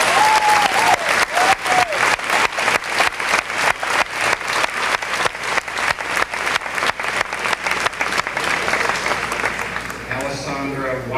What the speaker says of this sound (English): I'd like for you to give him the applause.